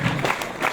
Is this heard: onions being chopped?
no